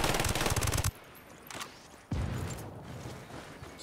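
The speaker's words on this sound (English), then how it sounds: "somebody's shooting at me now" A loud burst of rapid automatic fire from the Ghost Recon Wildlands video game cuts off abruptly, followed by a couple of sharper single shots and a dull rumbling aftermath.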